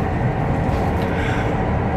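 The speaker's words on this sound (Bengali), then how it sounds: "300 কিলোমিটার গতিতে চলছে এখন আমাদের এই ট্রেন" Chinese high-speed bullet train travelling at 300 km/h toward Beijing, heard from inside as a steady, loud broadband rumble and rushing roar with no clear breaks.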